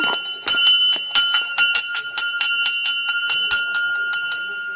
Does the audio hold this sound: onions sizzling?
no